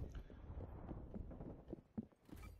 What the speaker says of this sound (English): their footsteps are so loud